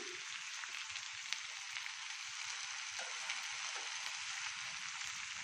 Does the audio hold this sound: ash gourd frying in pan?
yes